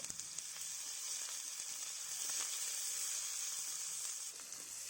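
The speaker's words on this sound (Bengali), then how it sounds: "সেই তেলের মধ্যেই মা দিয়ে দিচ্ছে পেঁয়াজ কুচি" Chopped onion sizzles in hot oil with ginger and whole mustard seeds, a steady close hiss that holds throughout with no talking.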